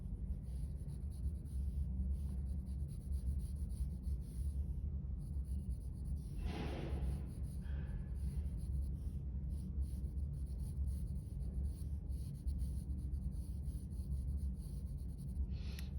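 A pencil shading fine, dark details on paper makes a steady, close, scratchy rubbing that runs continuously, with one brief brighter stroke partway through.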